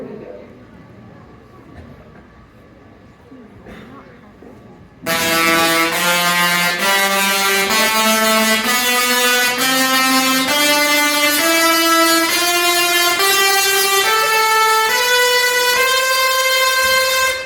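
Large Tesla coils in a lightning show at a science museum let out a loud buzzing electric tone after a quiet opening, its pitch climbing in steps as the spark rate rises.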